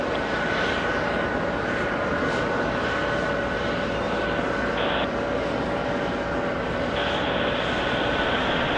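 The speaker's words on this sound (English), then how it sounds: "A330 300 Delta from Athens, touching down in spectacular fashion" A Delta Airbus A330-300 arriving from Athens touches down at JFK, a steady, fairly distant roar of jet engines holding throughout, with a slight rise in tone toward the end and no voices.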